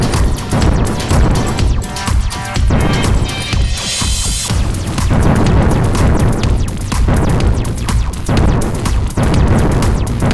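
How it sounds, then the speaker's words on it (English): Loud, dense video game explosion effects from a Ruby Gosu game boom and crash repeatedly in quick succession, layered into a continuous barrage with sharp bursts over rumbling low end. "You'll also add animated explosions, music, and sound effects to the game."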